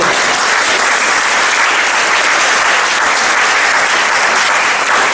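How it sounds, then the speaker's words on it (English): Loud, sustained audience applause filling a school speech day hall, a dense uniform roar of clapping without break from start to finish. "I'm pausing for applause."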